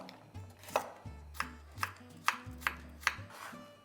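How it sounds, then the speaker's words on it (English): A knife chops a carrot into thin half rings on a cutting board, each stroke landing as a sharp knock in a steady, unhurried rhythm of about nine cuts, close and alone with no talking. "For the carrot, I like to cut it into half rings and just put it thinly"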